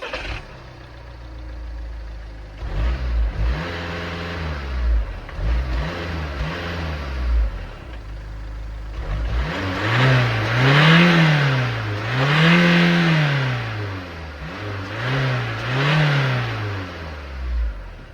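A 2010 Škoda Octavia vRS TDI diesel wagon with stock muffler and DPF starts up, idles roughly, then takes several rising and falling revs that swell and drop in a wavy pattern, moderately loud and close.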